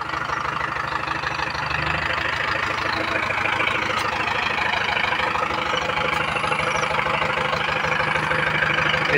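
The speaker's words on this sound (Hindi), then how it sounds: "ये थोड़ा मिसिंग सी मार रहा था ट्रैक्टर" A Mahindra tractor engine idles with a steady, loud low rumble and uneven misfiring knocks, continuous throughout and close by.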